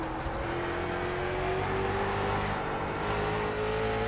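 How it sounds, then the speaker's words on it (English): A late model race car engine drones steadily from an onboard view during an eSports replay at The Bullring at Las Vegas, loud and continuous with a slowly rising pitch and no talk over it. "On board with Austin Edwards, the 18 car, the young man out of Southern California."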